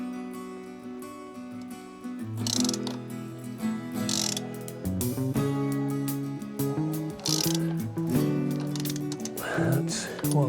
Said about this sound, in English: the first thing to do is loosen these two bolts